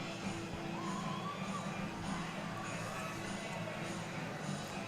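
At a BC women's premier league rugby match between Meraloma RFC and the Thunderbirds, a spectator crowd murmurs and shouts at a distance in a steady outdoor wash, with a commentator talking over it.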